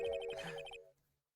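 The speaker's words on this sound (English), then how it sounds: "I heard a phone ring just now." A short electronic phone ringtone from a video game chimes in a quick melodic pattern for under a second, then cuts off into silence.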